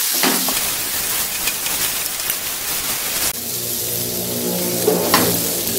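Pounded galangal, lemongrass and lime leaves sauté in a pan with a loud, dense, close crackling sizzle, interrupted by a few scrapes and knocks, with a faint low hum underneath.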